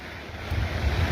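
Floodwater rushes after a cloudburst in a heavy, continuous low roar that swells louder midway, with wind buffeting the microphone and no voices.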